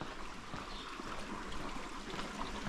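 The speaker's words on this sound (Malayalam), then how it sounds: "ആകെ വെള്ളം മാത്രം ഇങ്ങനെ പൊലിച്ചു പോകുന്ന സൗണ്ട് മാത്രമുണ്ട്" Water rushing and trickling along a stream in a quiet village in Oman, a steady close wash of flowing water with no voices.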